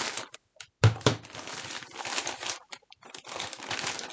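Knife cutting open a cardboard pet-treat subscription box, close crinkling and scraping rasps in short bursts with a sharp thunk near the start.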